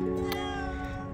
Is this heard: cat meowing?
yes